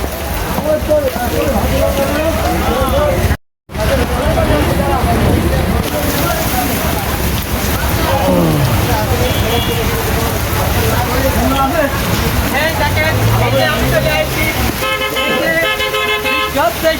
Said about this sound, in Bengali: হ্যাঁ, একরকম বৃষ্টি হয়ে যাচ্ছে